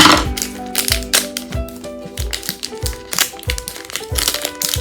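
Plastic packaging of a squishy fidget toy crinkles and crackles as it is cut open with scissors, with repeated sharp snips and rustles close up, no talk.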